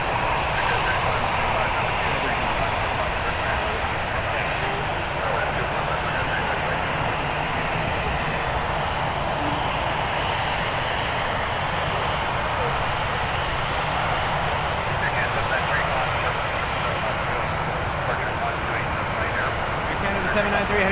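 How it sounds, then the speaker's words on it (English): Boeing 787-9 Dreamliner passing overhead on approach to runway 23 at Toronto Pearson: a loud, steady, broadband jet roar that holds for the full span, with a voice talking over it. "7879 Dreamliner coming in over our heads, runway 23 in just a moment."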